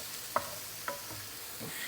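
Garlic cooking with onions and peppers in a pan over a low flame, a gentle steady sizzle broken by three or four light utensil taps and stirs, close and quiet.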